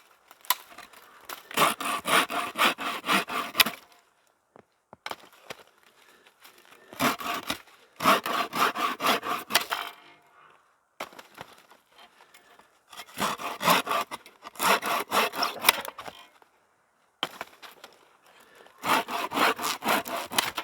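Firewood being cut with a hand saw, steady back-and-forth strokes in five bursts of a few seconds each, separated by short pauses, close and clear with no talking.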